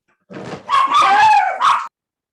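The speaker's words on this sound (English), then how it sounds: "babe, y'all have a dog?" A dog barks in a short, loud burst of several close yaps and whines, with no talk over it.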